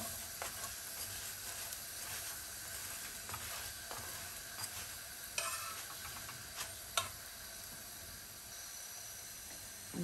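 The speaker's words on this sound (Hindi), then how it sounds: "और इसको गोल गोल घुमाते हुए चारों तरफ से अच्छी तरह सेक लेंगे।" An egg paratha fries in ghee on a flat pan, giving a steady soft sizzle with scattered crackles and a few sharper pops, moderately quiet and with no talk over it.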